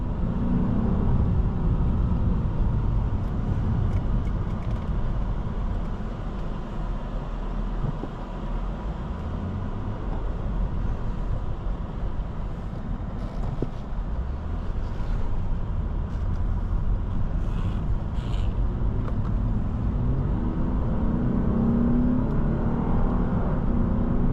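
A 2015 Lexus RC 350 accelerates while driving, its engine and road noise forming a steady, loud drone with rising pitch sweeps as it gains speed, no talking over it.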